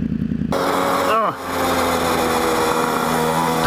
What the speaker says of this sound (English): 29cc, 3 horsepower motor.